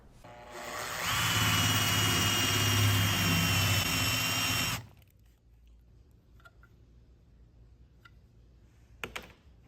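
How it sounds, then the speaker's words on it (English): A Forstner bit bores a recess into wood for a washer to sit in, a loud steady drilling whine running for about four seconds before cutting off, then quiet room tone with a few faint clicks. "This is where you'll make a recess with your Forstner bit for the washers to sit in."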